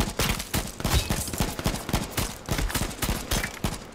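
A flurry of gunshots in the battle royale game H1Z1, sharp cracks in quick irregular succession, loud and close, with no talking.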